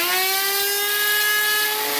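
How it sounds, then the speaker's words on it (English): A Dremel rotary tool spins up and runs steadily with a high, even whine and a faint rising pitch, loud and close, with no talking over it. "Turn on the Dremel. Whoa, there it goes, spinning away."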